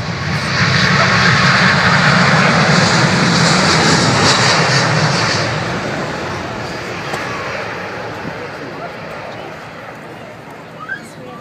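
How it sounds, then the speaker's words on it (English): An Airbus A380 jet airliner roars past during a flying display at Farnborough, a loud broad engine rumble that peaks early then slowly fades into the distance, with a commentator speaking over it. "it shows the flying control capabilities and performance of this A380"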